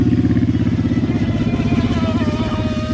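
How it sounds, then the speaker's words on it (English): A motorcycle passes nearby with a loud, steady engine drone that hums continuously throughout, with no voices over it. "Don't think anyone will have any complaints about cool motorcycle going by."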